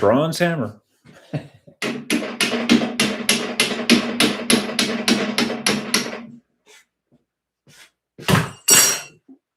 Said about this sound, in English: Bronze hammer.